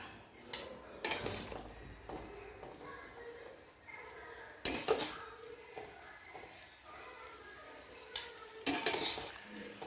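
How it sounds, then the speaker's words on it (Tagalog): Cooked pasta tossed in a pan with garlic for a cream cheese pasta, with repeated loud metallic clanks and scrapes of utensil against pan over a low background, no voices. "Kawan na nato inunod ang pasta. Dalat na to sa kawali."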